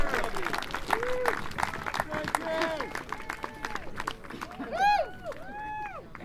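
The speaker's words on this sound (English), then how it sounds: "a round of applause for all of our" A crowd at an outdoor labor rally claps for front-line nurses, with steady applause mixed with shouted cheers and whoops rising over the clapping.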